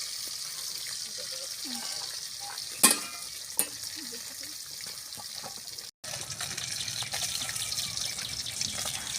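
Taki fish fry in a pan with mustard oil, a steady bright sizzle with crackles throughout, a couple of sharp clinks or spatula taps near the start and a brief cut partway, with no talk over it.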